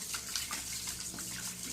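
Water runs steadily into a bowl as raw prawns are washed and cleaned with a little salt, a continuous close splashing and trickling wash with no talk.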